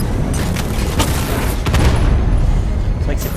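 Cannon fire and explosions in the Batman: Arkham Knight video game, a dense, loud, continuous barrage of booms and blasts with no gaps, recorded close and filling the whole stretch.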